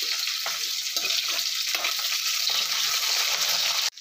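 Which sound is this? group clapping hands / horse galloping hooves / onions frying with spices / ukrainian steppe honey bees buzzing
onions frying with spices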